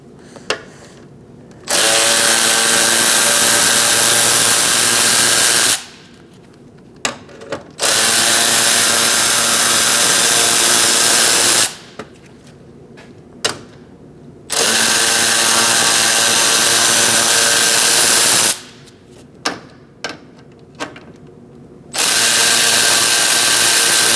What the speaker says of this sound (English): Using a 7mm socket, we're going to remove these 4 bolts.